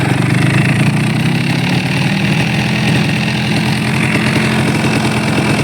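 A Cagiva Roadster 125 motorcycle engine idles steadily and loudly up close, a continuous even rumble with no talk.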